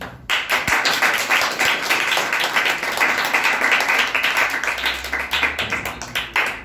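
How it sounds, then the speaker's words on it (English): An audience at a storytelling competition gives a contestant a big round of applause, continuous dense clapping from many hands that holds steady and tapers slightly near the end, with no voices over it. "Guys, can we have a big clapping?"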